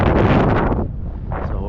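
Loud, close wind blasts across open water during kayak fishing, a heavy rumbling gust that drops briefly, then swells again with rushing buffeting against the microphone.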